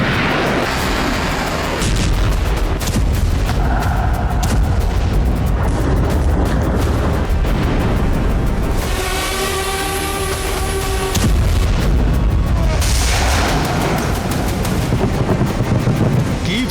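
Continuous loud, rumbling booms and roaring blasts from Russian missile strikes on Kyiv, a dense, sustained wall of low thunderous noise with a brief tonal wail in the middle.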